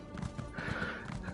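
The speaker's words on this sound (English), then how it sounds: "This should be riding a horse one moment, a dwarven horse one moment" Horse mount hooves clip-clopping in Elder Scrolls Online, a steady rhythmic gait with a faint whinny, moderately loud and continuous over a game background, no talking.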